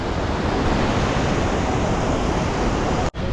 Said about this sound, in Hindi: तो चलते हुए हम इस झरने को पार कर रहे हैं